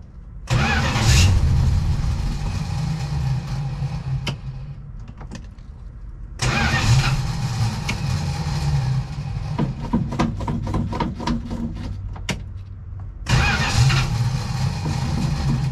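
A 1968 Dodge Charger engine, unused for 30 years, is cranked repeatedly: three loud bursts of starter whirring and rough, sputtering catches from close by, separated by brief pauses.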